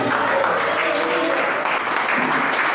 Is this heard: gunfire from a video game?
no